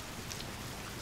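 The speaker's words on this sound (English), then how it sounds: "The rain! It's so heavy that most other sounds are being drowned out." Heavy rain pouring steadily, a dense, even hiss with no breaks, close and enveloping though fairly quiet overall.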